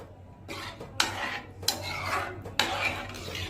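A metal cooking pot being washed and scrubbed, with loud scraping strokes and a clank at the start of each stroke, heard close up.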